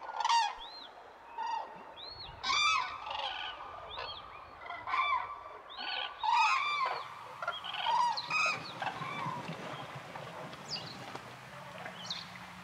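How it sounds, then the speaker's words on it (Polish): Common cranes call in flight, a flock's loud rolling trumpeting bugles repeating in overlapping bursts, some near and some farther off, over a low steady background. "Klucz podąża za głosem żurawi, które doleciały tuż przed."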